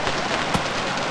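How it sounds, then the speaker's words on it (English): Rain falls in the video game Stranded Deep, a dense, loud wash of hissing patter across the whole moment, with one slightly sharper drop or splash partway through and no speech. "it began to rain today as well"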